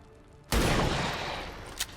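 A single loud gunshot in XCOM 2 cracks at half a second and rings out into a long, noisy decay, with a small extra thump near the end.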